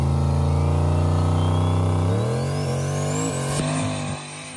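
A turbocharged Ford Mustang holds a loud, steady high idle on the street, then revs sharply upward in a rising surge before the engine note drops away, close and alone.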